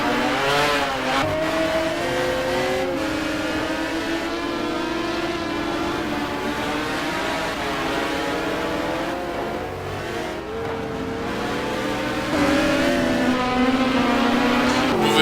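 GT1 race cars scream around the Nurburgring in qualifying, a loud sustained engine wail rising and falling through gearchanges and braking, with several cars overlapping near and far.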